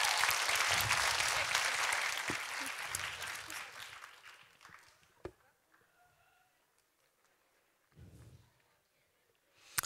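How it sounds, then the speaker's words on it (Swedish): Audience applause at a Swedish school web awards ceremony swells loudly at first, then thins into scattered claps and fades to near silence, with a few isolated claps and a brief murmur later on. "Stora applåd till Ystad."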